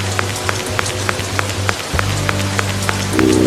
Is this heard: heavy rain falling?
yes